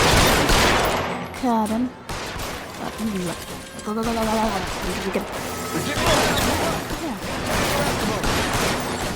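Gunfire from a mob shootout in the video game L.A. Noire crackles in bursts throughout, sharp reports layered with a voice talking over the fight.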